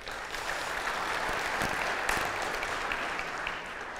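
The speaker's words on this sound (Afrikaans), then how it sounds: "Kom ons gee vir haar hande klap." An audience claps for a speaker, a Hoërskool Alberton matric pupil called up at a church gathering, in a steady crowd ovation of dense, even clapping that carries through the whole stretch.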